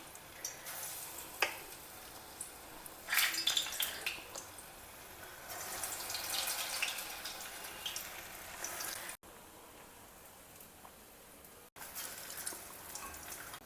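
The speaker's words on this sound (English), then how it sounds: "gently drop the bondas in the hot oil." Bonda batter drops into hot oil and fries with irregular crackling and spattering bursts that rise and fall, moderately loud, with no talk.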